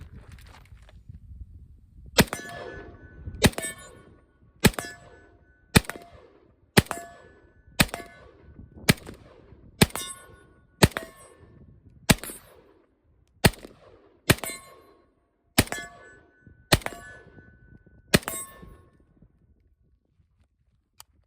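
A string of about fourteen rifle shots from AAC 7.62x39 steel-case ammunition fired over iron sights, evenly spaced about a second apart, each crack followed by a brief metallic ring from a steel target, fairly close.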